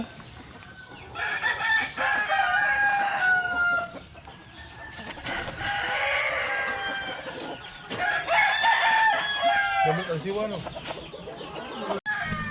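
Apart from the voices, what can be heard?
pet chickens clucking and rooster crowing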